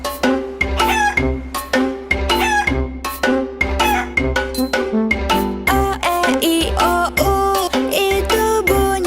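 A busy chorus of chickens clucking and squawking in quick, loud, overlapping calls, with no voices heard.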